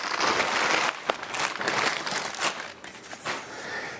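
A plastic bag crinkles and rustles steadily at close range while a tripod is unpacked, with a few sharper crackles and no talking.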